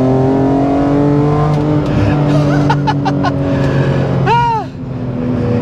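A BMW M3 E46 CSL accelerates out of a corner with a loud, close, steady engine drone and a few sharp chirps, then the pitch dips and climbs again as the revs change.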